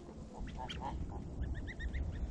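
A baby goose and a baby duck on a small farm, a few soft, faint peeping and quacking calls in short bursts over a rumbling outdoor background.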